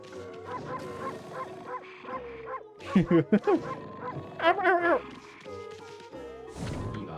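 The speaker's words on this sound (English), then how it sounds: "Can I bark at him? Can I howl?" Wolf barking in the video game Okami: a run of sharp, close barks and yips, some with a whimpering edge, over steady background game music.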